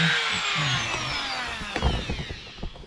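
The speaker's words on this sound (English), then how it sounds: "here we go with the Dremel. What we're going to try to do is cut a slot that we can use a flat bladed screwdriver on" A Dremel rotary tool whines at high pitch while cutting a slot into a stripped bolt on a Royal Enfield motorcycle, a steady grinding that wavers as the tool bites.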